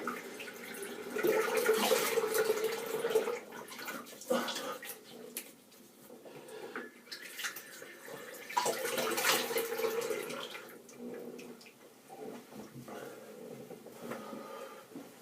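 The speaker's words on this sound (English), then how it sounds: "I'll just rinse my face, back in the mode." Tap water splashes in bursts as a face is rinsed at a sink after shaving with a 1960 Gillette Fatboy adjustable safety razor, two louder splashing spells separated by quieter trickling.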